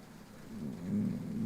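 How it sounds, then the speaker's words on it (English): Light drizzle falls steadily on an outdoor cricket ground during a women's under-19 match between Zimbabwe and South Africa, a soft continuous patter that swells slightly louder toward the end, with no voices. "There's some drizzle."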